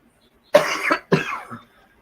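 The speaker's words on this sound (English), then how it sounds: "I do apologize for coughing" A person coughs twice in quick succession, two short harsh bursts close to the microphone followed by a faint throaty trailing sound, with quiet around them.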